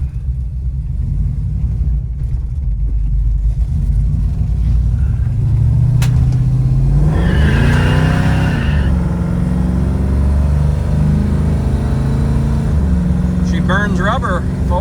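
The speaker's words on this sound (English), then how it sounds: "Burns rubber, folks." A 1970 Ford Mustang coupe's 302 V8 with automatic transmission rumbles loudly as it accelerates, burning rubber, the pitch rising with a rushing roar, and a voice speaks briefly near the end.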